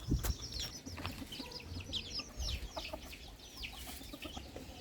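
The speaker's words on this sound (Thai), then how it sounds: "อันนี้ไก่แจ้สวยงามค่ะ" Ornamental bantam chickens on a rural Thai home farm cluck and chatter in short, overlapping calls at moderate distance, several birds vocalising together over a soft outdoor background.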